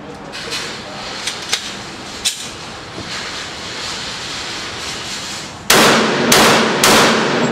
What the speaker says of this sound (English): we are going to be doing 3 quick bursts at 5, 9, and 22 yards out with the reducer and without the reducer